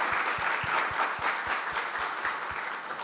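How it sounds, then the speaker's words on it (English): A crowd applauding steadily at a community small business event, with a few sharp nearby claps standing out in a regular rhythm against the dense clapping. "I would just like to offer another round of applause for them."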